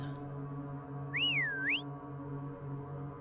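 A single faint, gliding human whistle rises, dips and climbs again over a low steady hum, otherwise quiet, at a campsite around 1:30 at night.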